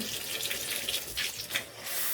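Water runs steadily from a tap into a sink, splashing and gushing unevenly, close by and fairly loud, with no talking.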